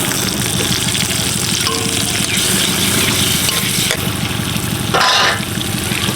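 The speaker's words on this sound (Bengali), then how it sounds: "গরম কড়াইতে মাখনটা দিয়ে দিচ্ছি" Loud, continuous sizzling as butter is added to a hot kadai while cooking butter chicken, close and steady throughout, with a brief louder crackle near the end.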